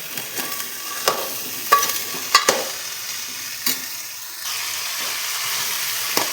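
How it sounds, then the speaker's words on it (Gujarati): Chickpeas sizzling in a pan with spices, with a few sharp scrapes of a spoon stirring, then a steady hiss of frying; nearby, no talking. "આપણે મસ્ત ચણા વઘારીને કમ્પ્લીટ કરી નાખ્યા છે"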